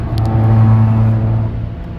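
An Audi Allroad engine hums steadily at 82 miles an hour on a highway, a loud, even drone with low rumbling tones and road noise, no voices.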